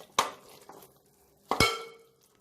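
A spoon stirs tomato and salt into kuska masala in a metal pot, giving two sharp clanks about a second apart with a faint ring after each and quiet scraping between them.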